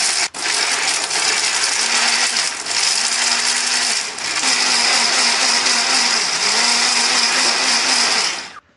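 A kitchen blender grinding shallots, garlic, turmeric and pepper, a loud continuous whirring roar with brief dips and a cyclic rising-falling motor tone, no talking.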